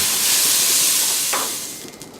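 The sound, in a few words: bamboo shoot and Chinese celery hissing in hot oil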